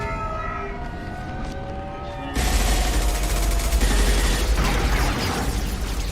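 Loud gunfire erupts partway through a Mass Effect 2 firefight after a quieter tonal, siren-like stretch, then keeps going as a dense, sustained volley of shots.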